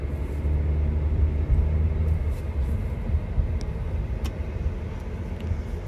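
A 2023 Acura Integra A-Spec Tech with a 1.5-liter turbocharged four-cylinder and CVT driving, heard as a steady low road-and-engine rumble from inside the cabin, with no one talking.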